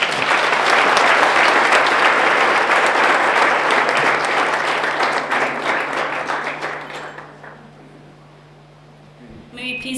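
Sustained audience applause at a book discussion event, a dense wash of many hands clapping that gradually fades out over several seconds to near silence, then a brief stir of sound.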